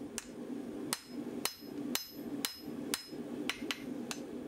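Hot steel is hammered on an anvil while forging a hot-cut hardie tool, giving sharp, ringing metallic blows at a regular pace of about two per second. A quick double strike comes near the end, and there is no talking.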